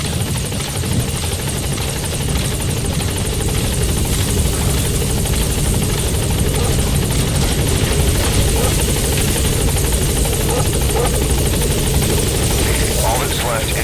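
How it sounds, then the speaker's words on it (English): A support helicopter arrives in Metal Gear Solid 5, its rotor chopping loudly and steadily throughout as a broad, continuous engine roar. Radio-style voices speak over it. "Support helicopter has arrived."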